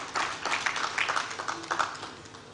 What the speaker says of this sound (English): Lydia, can we please give her a round of applause?